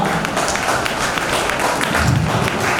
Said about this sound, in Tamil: ஆக்சுவலாக இந்த கைத்தட்டல் தான் பத்தாதாங்க